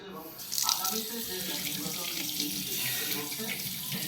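Water from a tap runs steadily over freshly picked garden tomatoes as one is rinsed, a continuous close splashing stream with slight shifts as the fruit is turned under the flow.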